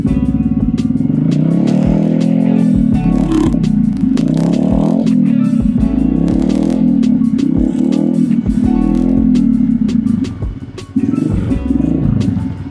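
A Harley-Davidson Road Glide custom motorcycle engine idles loud and close with a deep, steady rumble, rising in several throttle revs before settling back to idle, with no talking over it.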